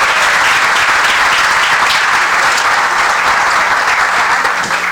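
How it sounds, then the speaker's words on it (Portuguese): Dense, loud applause fills a hall at an academic panel on LGBT health and rights in Brazil, a continuous roar of many hands clapping close by without letting up. "Os aplausos"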